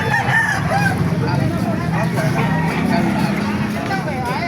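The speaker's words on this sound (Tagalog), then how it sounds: "ganda ng mga manok" Roosters crow and chickens cluck in a busy yard at a chicken market in Baliuag, Philippines, loud and close, with people talking over the birds throughout.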